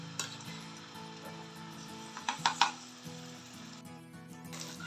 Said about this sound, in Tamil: நல்லா ஆயில் விட்டுட்டு ஃபிஷ்ஷை வந்து ஃப்ரை பண்ணி எடுத்துக்கலாம்.